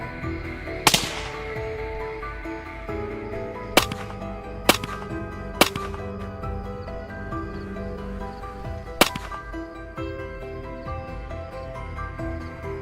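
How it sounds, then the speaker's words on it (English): Sharp gunshots crack out one at a time, about six irregularly spaced reports over a low background hum, loud against the quiet, fired at wild pigs at night in an Iowa cornfield. "Gunfire continued to ring out steadily in the quiet space of the night"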